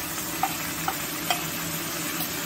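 Ground turmeric, chili and cumin powder being stirred into hot oil in a pan while cooking raw ilish fish in curd, with a steady soft sizzle and three light clinks of the spoon against the pan.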